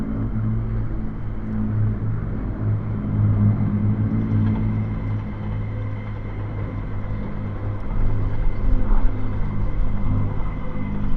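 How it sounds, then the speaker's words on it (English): Spitfire fighter planes in the Platinum Jubilee flypast, a steady, loud low piston-engine drone with rumbling harmonics that holds throughout and swells slightly toward the end. "The Spitfires, which were so famous around the world."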